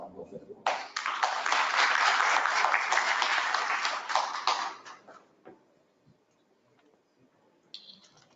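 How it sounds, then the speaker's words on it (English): An audience at a Pakistan post-budget session breaks into a strong round of applause, dense steady clapping for about four seconds before fading out into near silence. "give a very strong round of applause"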